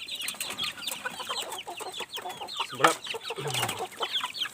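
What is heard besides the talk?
backyard chickens clucking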